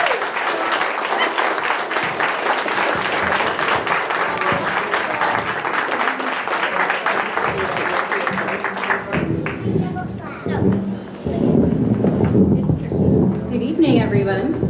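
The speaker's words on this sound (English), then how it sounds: "Please give a warm and welcoming round of applause for Dr." An audience at a community health open house in Waterville gives a sustained, loud round of applause to welcome a speaker, thick steady clapping that thins near the end as a voice begins over it.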